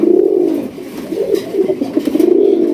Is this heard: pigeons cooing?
yes